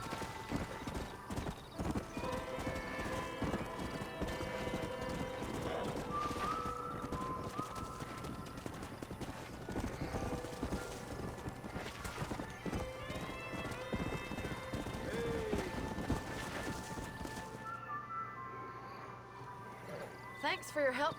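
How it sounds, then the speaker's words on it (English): In the Western game Red Dead Redemption, horses are being broken during cattle ranch work: hooves clop rapidly and continuously, with occasional whinnies, close and loud throughout before thinning out at the end. "We got some fine horses."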